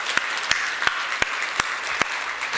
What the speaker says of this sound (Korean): 우리 다시 한번 우리 하나님 옆에 영광의 박수 돌려드리실까요?